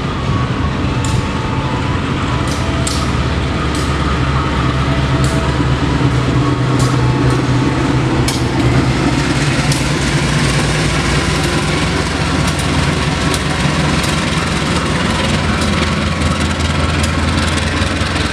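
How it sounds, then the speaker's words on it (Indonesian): A CC 20337 diesel locomotive rumbles steadily past Jatinegara station in Jakarta, its heavy low engine drone loud and close for the whole stretch, with faint metallic clicks from the rails on top. "Ada lokomotif CC 20337, lokonya Jogja"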